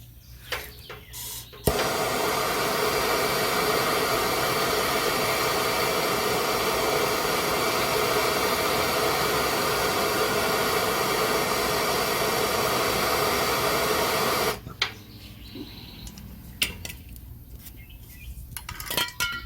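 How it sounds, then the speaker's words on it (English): A torch heats the metal bumper of a 1977 Chevrolet Cheyenne C10 truck, a loud, steady roaring hiss that runs unbroken for about thirteen seconds and then cuts off, leaving faint clinks and shop noise. "this thing torched back up again. Get it warm again."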